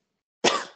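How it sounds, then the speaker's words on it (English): A single sharp cough, close and fairly loud, after a stretch of silence, trailing off quickly. "I think your cough came over here."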